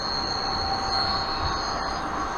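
A model train layout in Sri Lanka with a turnout runs steadily on its tracks, giving a continuous close rolling rumble with a faint high metallic whine and no voices.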